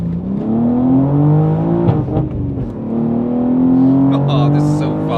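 Manual BMW M3 G80 engine rising and falling in pitch as it revs through heel-and-toe downshifts, loud and close inside the cabin, with a person talking and exclaiming over it.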